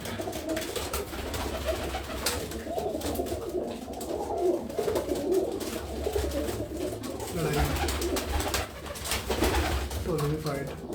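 Pigeons in a home loft coo in low, repeated throaty calls that overlap steadily, with people talking nearby underneath.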